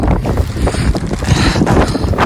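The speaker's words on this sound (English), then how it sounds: "Wind again. This is ridiculous." Wind buffets a microphone outdoors on a muddy garden plot in March, a loud, continuous blustery rumble with gusty swells and no voices.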